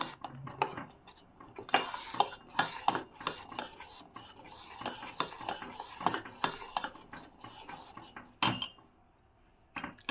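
A spoon scrapes and stirs a thickening almond paste and milk mixture in a pan over low heat, making irregular rasping strokes and clinks close by, with quieter pauses between bursts.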